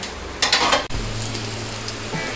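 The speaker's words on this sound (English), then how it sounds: "Now the chilies and garlic has turned into little brown color, so they're getting fried." Chilies and garlic frying in a pan give a steady, close sizzle with a brief stirring clatter, over a low constant hum.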